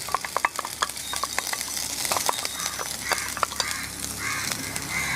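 Grated coconut sizzling and crackling in hot coconut oil, steady frying hiss with scattered sharp pops and stirring scrapes, close and fairly loud.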